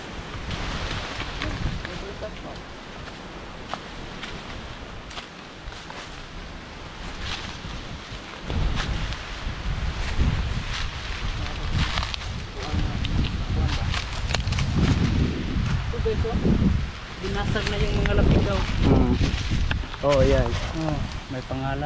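Strong wind gusts outdoors at a wartime Japanese cave and cemetery site, rushing and buffeting the microphone in surges that grow louder after a calmer opening, with people speaking beneath the roar.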